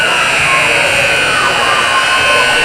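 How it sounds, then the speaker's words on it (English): A loud, steady electronic mercy-rule buzzer drones continuously over crowd noise and muffled talk at a hockey game, holding a constant tone throughout. "as the mercy buzzer sounds"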